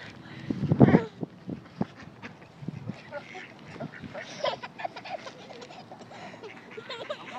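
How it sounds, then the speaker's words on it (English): Ducks quack in a busy, irregular cluster nearby at a park, with louder calls early on and softer chatter continuing throughout. "Ew. Ducks!"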